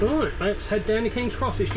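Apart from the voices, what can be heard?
No distinct noise like a dog, phone or traffic.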